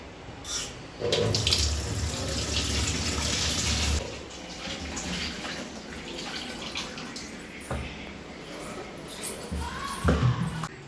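Water runs into a kitchen sink basin and down its drain pipe, a steady broadband rush that is loudest early, then continues more softly with small splashes and clatters, alone without talk.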